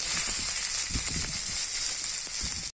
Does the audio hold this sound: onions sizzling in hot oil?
yes